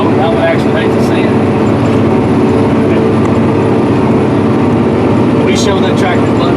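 A John Deere 570RX tractor pulls a 2680H high performance disk through field ground at high speed. Its loud, steady, close engine rumble fills every moment, with a voice faintly over it.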